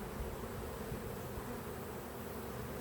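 Honey bees in an opened beehive fill the air with a dense, steady buzzing hum, continuous and close, without voices.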